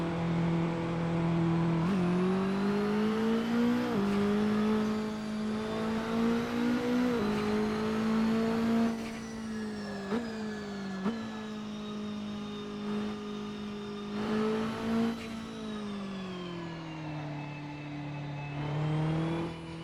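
A Saleen S1 GT4 race car in Assetto Corsa, driven at Reservoir Chicane, gives a loud engine drone that rises and falls through repeated gear shifts and revs, with no talk.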